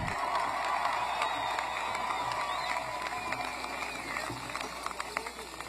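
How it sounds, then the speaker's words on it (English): Stadium crowd at a Montana State Bobcats national championship celebration applauding the Bobcat singers, a broad, continuous roar of clapping and cheering from a large, distant audience over the whole stretch. "One round of applause for our Bobcat singers"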